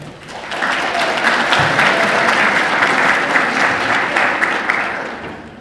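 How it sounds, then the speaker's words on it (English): A class of students applauds their class representatives in a lecture hall, steady clapping sustained from start to finish, loud and close with no talk over it. "Give your class reps a round of applause."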